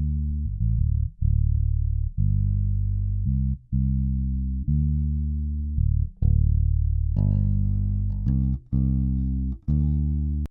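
Bass guitar line with its mid-range and high end stripped away, leaving dull, boomy low notes played in sustained, evenly spaced strokes, close and fairly loud, with a few brief brighter plucks later and no voices.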